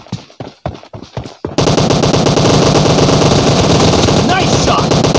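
Gunfire in the PUBG video game, a few sharp separate shots followed by a loud, sustained stream of rapid automatic fire, close and continuous.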